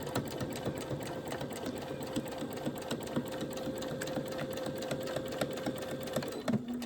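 A sewing machine runs steadily, close up, stitching a reusable grocery bag with a back stitch, its rapid needle rattle holding an even hum throughout before a brief change at the end.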